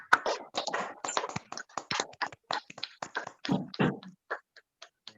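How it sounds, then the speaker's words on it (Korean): A small church group gives encouraging applause after a testimony, sparse and uneven hand claps and taps close by that thin out toward the end. "우리 다시 한번 격려의 박수 한번 크게 보내드리죠"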